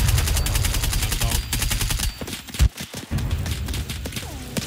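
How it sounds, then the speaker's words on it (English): Gunfire in the video game Escape From Tarkov from a squad firing on the player: a dense, rapid automatic burst fills the first half, followed by scattered single heavy shots and echoing cracks, loud and close, with no talk. "they're shooting at us, man."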